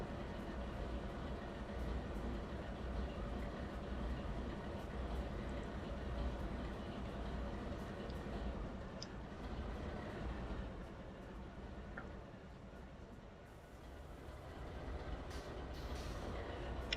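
A train engine idles in the Trainz Railroad Simulator 2022 video game, a faint, steady low rumble that continues evenly throughout with no other distinct events.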